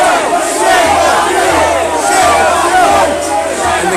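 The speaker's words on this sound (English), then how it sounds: "And the crowd are angry now and they're following the police out" Angry crowd in London's Hyde Park following police out as someone is taken away, a loud, dense mass of shouting and jeering voices rising and falling continuously, close and surrounding.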